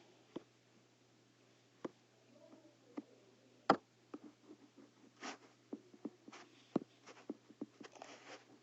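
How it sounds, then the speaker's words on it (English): Faint pen-on-paper writing of a math expression: soft scratches and taps in irregular bursts over a low hum, quiet and close, with no voice. "So now I am going to write my least common denominator"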